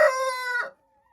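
A single hen lets out a drawn-out, nasal call at close range, lasting under a second before it cuts off into near silence.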